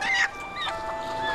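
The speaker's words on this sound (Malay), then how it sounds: "Ayam hidup." A chicken gives a short, faint call, followed by softer clucking against low background noise.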